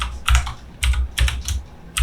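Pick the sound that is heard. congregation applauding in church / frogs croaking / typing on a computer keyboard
typing on a computer keyboard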